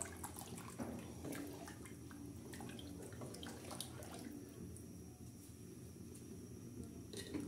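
Water coming to a boil in a covered pot while sweetened rice is being made, a steady bubbling wash with scattered pops and drips, close by and with no talk.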